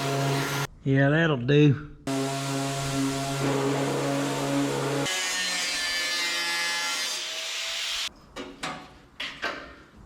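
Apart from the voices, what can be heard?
random orbital (DA) sander with 80-grit paper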